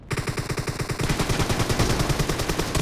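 Rapid automatic gunfire from M416 and M762 rifles in a 4v4 Domination match in a town in PUBG Mobile, with loud, evenly spaced bursts of shots that thicken into near-continuous firing after the first second.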